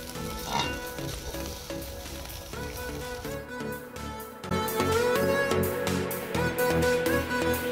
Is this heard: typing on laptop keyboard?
no